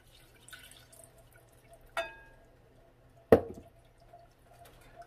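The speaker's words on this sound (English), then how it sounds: "now is when you want to start adding your broth" Broth poured a little at a time into a tomato paste roux for Mexican rice, heard as a couple of sharp splashes and drips against a quiet kitchen background, with no talk.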